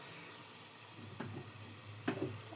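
Onions and turmeric fry in hot oil for a mutton curry, giving a faint, steady sizzle with a few soft stirring clicks and one slightly louder scrape near the end.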